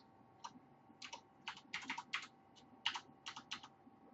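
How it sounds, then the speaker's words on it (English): Keys clack on a computer keyboard as a web address is entered, quick uneven bursts of close, quiet taps with short gaps between. "I'm going to type that in."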